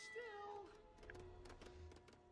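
A cat in LEGO Marvel's Avengers, on Barton Farm: one clear, drawn-out meow near the start, followed by faint scattered game sounds and a low hum.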